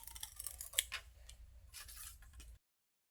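Scissors snip material into small pieces for a fall wreath, a few close, crisp cuts with a sharp click among them, faint room hum beneath, ending abruptly in silence.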